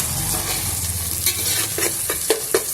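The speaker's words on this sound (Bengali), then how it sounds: "এইভাবে পেঁয়াজগুলোকে ভালো করে ভেজে নিতে হবে" Chopped, lightly salted onions fry in mustard oil in a saucepan for meat khichuri, giving a continuous sizzle broken by several scraping stirs toward the end.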